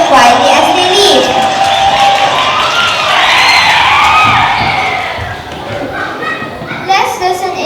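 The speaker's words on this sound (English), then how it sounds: "the crowd is cheering quietly as they leave" A crowd of children at a school performance cheers and shouts in a steady, loud wash of young voices, with whoops rising around the middle before the noise eases slightly near the end.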